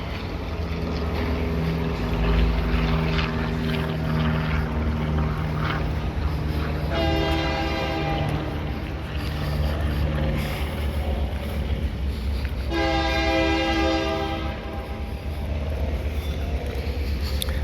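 A train passes through the New Orleans French Quarter, its rumble steady throughout while two long horn blasts sound loudly, the second following a short pause.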